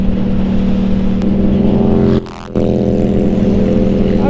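A big motorcycle cruises along with a steady, loud engine drone and strong low harmonics that dip briefly midway before resuming at full level.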